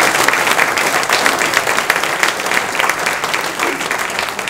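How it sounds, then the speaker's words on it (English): An audience at an athletic hall of fame ceremony claps loudly and steadily, a dense patter of many hands that carries on without letup. "And if the meal was pretty good, give Jim a huge round of applause."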